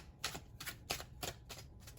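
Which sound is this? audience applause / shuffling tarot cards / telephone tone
shuffling tarot cards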